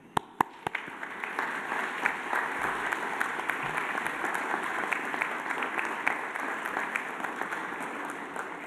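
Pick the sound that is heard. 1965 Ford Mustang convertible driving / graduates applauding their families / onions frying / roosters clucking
graduates applauding their families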